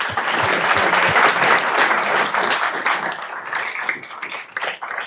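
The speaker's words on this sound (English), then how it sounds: "Give them a round of applause, please." Dense audience applause fills a police commissioners' board meeting, loud and sustained for several seconds before thinning out toward the end, with no talking over it.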